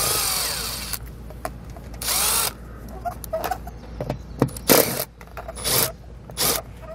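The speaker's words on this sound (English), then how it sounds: "grab a 3/8 nut driver or a 3/8 socket, and we're going to pull all these out" Short bursts of a power nut driver backing out bolts from a Lippert Solera awning support arm on a 2017 Forest River RV, several separate whirring runs of a second or so each, close and fairly loud with scraping between them.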